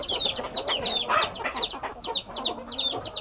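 Aseel / Easter egger hens and other chickens cluck and chatter in a flock, a busy stream of short, high, repeated calls close by with a steady farmyard background.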